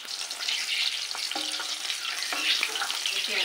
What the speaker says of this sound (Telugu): ఇప్పుడు ఈ గుడ్లను ఫ్రై చేసుకుందాము